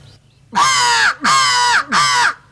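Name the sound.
crow call imitated with a caller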